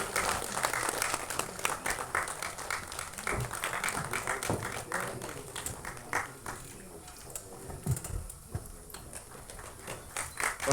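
Audience applause at a film and album song screening festival, a steady, dense patter of many hands clapping that runs throughout at moderate volume, with no one talking over it.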